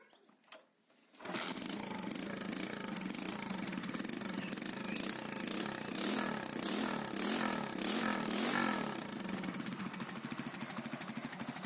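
A Spark 125 moped's small engine runs after a piston replacement, starting abruptly into a loud, rapid, rattling buzz that holds steady for over ten seconds with slight swells in revving, close and alone.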